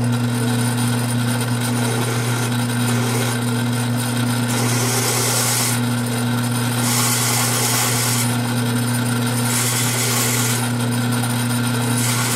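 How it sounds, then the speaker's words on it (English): Steady, loud power-drill whine grinding slowly into sheet steel for a steel enclosure, with the high-pitched cutting noise swelling and easing in several stretches throughout. "I'm just going to drill this very slowly just to make sure I don't go through the second layer of steel."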